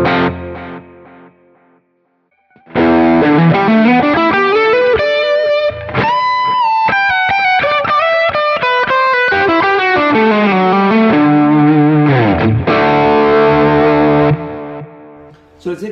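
Electric guitar played through an amp model on a Quad Cortex with the overdrive pedal switched off, a loud, sustained lead line of held and bending notes with strummed chords, running continuously after a brief pause near the start.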